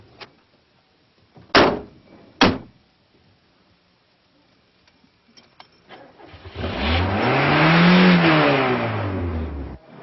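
Two car doors slam in quick succession, then after a short pause a car engine starts and revs as the car pulls away, its sound rising and then easing off, with no talk.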